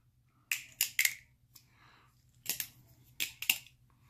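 A Microtech Tachyon 3 knife snaps open and shut, sharp crisp metallic clacks in close pairs, about eight distinct clicks with quiet gaps between, loud and close.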